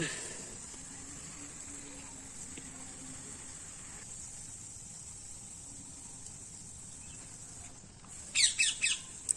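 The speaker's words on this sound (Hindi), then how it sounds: "ओ तोता आ गया, तोता आ गया" A parrot in a home garden gives a quick run of shrill squawks near the end. Before that there is a long stretch of quiet outdoor background.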